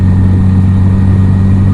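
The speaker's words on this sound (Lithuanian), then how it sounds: "Koks tai motociklas?" A steady, loud engine rumble with a deep low drone holds throughout, like a motorcycle running close by.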